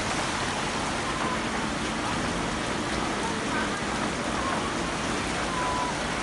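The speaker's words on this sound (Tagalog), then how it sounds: "Sana wag na lumakas yung ulan." Steady, dense typhoon rain pours down in a continuous hiss during flooding in Parañaque, Philippines, with drops pattering on surfaces nearby.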